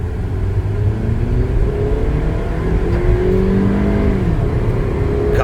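A Scion xB pulls away under acceleration. The engine hum rises in pitch as it revs up through the run, heard up close from inside the car, with no voices.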